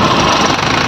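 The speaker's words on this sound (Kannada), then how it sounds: "ಈಗ 27 ವರ್ಷ ಟ್ರ್ಯಾಕ್ಟರ್ ಇಂಜನ್ ಫೈರಿಂಗ್ ಹೆಂಗೈತ್ ನೋಡ್ರಿ." The diesel engine of a 27-year-old 1998 tractor runs steadily up close, a loud continuous knocking thrum over a single brief second.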